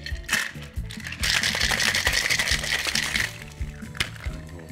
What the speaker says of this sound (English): And we'll give this a good shake.